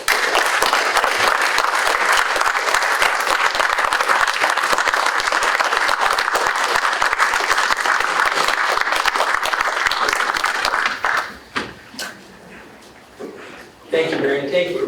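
Sustained, dense applause from the audience at a county board of supervisors meeting, loud and even for about eleven seconds before it breaks up into scattered claps and a last short burst.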